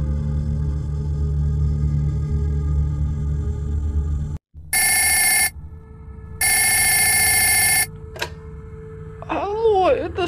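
A telephone rings twice in a mobile video game, each ring a loud continuous electronic trill about a second long after a steady hum drops out, followed by a brief voice.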